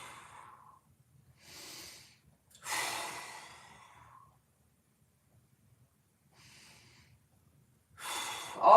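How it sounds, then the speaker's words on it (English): Deep breathing during a mobility stretch, several slow breaths with long audible exhales and pauses between them, close to the mic, no talking. "Breathe, expand the rib cage."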